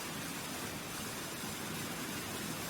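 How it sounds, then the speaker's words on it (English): Constant broadband rush of a waterfall in the video game The Long Dark, an even roar with no pauses or changes throughout. "Ah, here's a waterfall."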